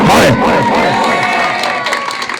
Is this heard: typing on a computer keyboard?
no